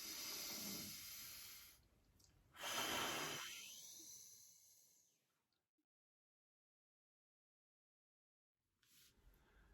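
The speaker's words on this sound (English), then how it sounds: "maybe I'll practice deep breathing" Slow, deep breathing exercise: a couple of long, loud breaths drawn in and pushed out near the microphone, separated by pauses, followed by near silence before a faint breath at the end.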